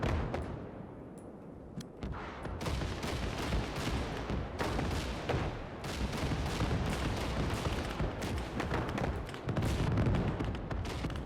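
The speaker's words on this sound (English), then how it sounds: "Big explosions." Heavy artillery barrage in the World War II game Gates of Hell, with an experimental super tank mod: dense, continuous booms and crackling blasts roll over each other with sharp impacts throughout, fairly loud, and no talking.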